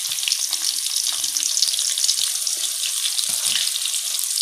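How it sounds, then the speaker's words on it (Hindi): Chopped onions fry in hot oil in a pan just emptied of okra, a dense continuous sizzle with occasional soft knocks and stirring clatter, close and fairly loud with no talking. "अब हम प्याज को ब्राउन करेंगे"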